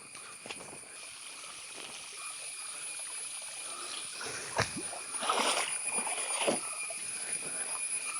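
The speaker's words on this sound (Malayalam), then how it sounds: "ഈ വെള്ളച്ചാട്ടത്തിൻ്റെ പേര് കുറുവാക്കയം എന്നാണേ." A low-flow stream at Kuruvakkayam waterfall, in a forested Kerala village, trickles and burbles steadily at a moderate distance, with a few brief splashes and sloshes in the middle of the stretch.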